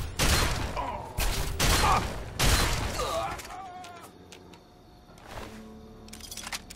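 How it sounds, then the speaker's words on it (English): Shotgun blasts in the video game Fallout 3 come as several loud, booming shots in the first half, followed by quieter game sounds and fainter rattles. "Let's use our shotgun, I guess."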